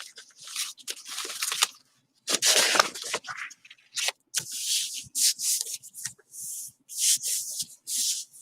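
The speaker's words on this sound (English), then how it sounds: "Okay, rub, rub, rub," Sheets of paper rubbed by hand over a gel printing plate, producing bursts of dry scratchy friction in irregular strokes with short pauses between them, close and fairly loud.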